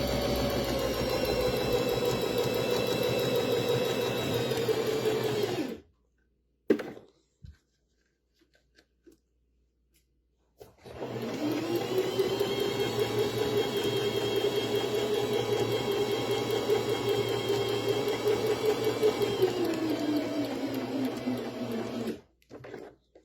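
A home sewing machine stitches fabric for a homemade dog toy. Its steady motor whir runs close and loud for several seconds, briefly speeds up, stops for a few seconds, then resumes in a long even run.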